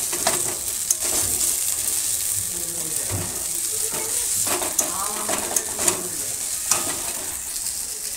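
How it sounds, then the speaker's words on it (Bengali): Onions, peanuts and potatoes sizzle in hot oil for a homemade pasta dish while a utensil stirs and scrapes the pan in irregular strokes, with a steady frying hiss throughout and a few sharper clinks. "এরকম পেঁয়াজ আর বাদাম আর আলু সবার সাথে দিয়ে এখন নেড়ে নেব"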